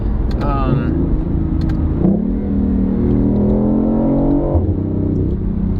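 BMW i8 hybrid sports car accelerating in manual paddle-shift mode, the engine note climbing in pitch, then dropping sharply at quick gear changes before rising again, with a person talking over it inside the cabin.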